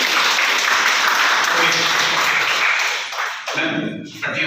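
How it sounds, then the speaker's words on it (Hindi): Audience applause at a children's brain development seminar at a school in Mathura, a dense sustained clatter of many hands that thins out toward the end, where a voice briefly breaks through. "तालियां हो जाएगा फिर"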